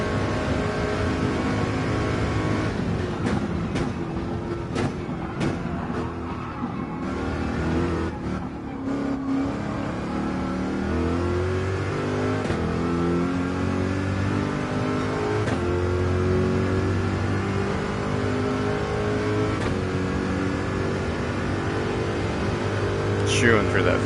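A Corvette C7 Gr.3 race car in Gran Turismo 7 at Le Mans roars continuously through gear changes and rising revs, loud and close from the cockpit, with a voice talking faintly over the engine.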